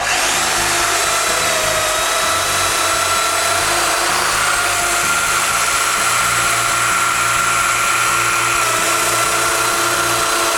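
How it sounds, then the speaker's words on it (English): Power tool cutting mortises into wooden rails for a garage door in a shop, a loud steady whine running the whole time with no talk. "I disassemble it all and make the rails mortises."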